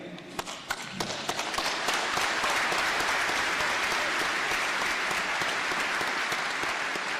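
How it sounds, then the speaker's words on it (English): Audience applause at a military change-of-command ceremony at Recruit Training Command, greeting a commanding officer's introduction; a few scattered claps swell quickly into dense, steady clapping from a large crowd that holds evenly to the end. "Thank you for the round of applause there."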